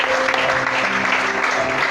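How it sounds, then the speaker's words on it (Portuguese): An evangelical church congregation applauds during a sermon, a brief, loud wash of clapping with steady intensity and faint tonal music underneath. "Aplaude, glorifica e exalta esse Deus"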